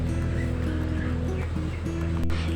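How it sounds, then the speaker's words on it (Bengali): About half a cup of water is poured into a pan of small radish curry with dried mola fish, making a steady rushing, splashing wash that carries on through the whole moment over a low hum. "ঝোলের জন্য হাফ কাপ পরিমাণ পানি দিয়ে দিলাম"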